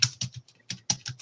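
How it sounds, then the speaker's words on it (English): Someone types on a computer keyboard, a quick run of close, crisp key clicks in an uneven rhythm with short pauses between groups. "Somebody's typing."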